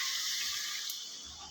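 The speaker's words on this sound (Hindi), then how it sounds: "इसमें अब हम पानी शामिल करेंगे।" Water pours steadily into a pot of mutton kofta curry masala, a brief bright splashing hiss that tapers off slightly toward the end, with no talk.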